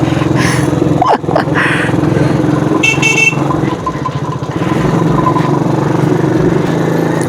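Motorcycle engine revving on a rented bike in Jaipur, loud and close amid busy street traffic with horns honking, the engine note steady through the clip.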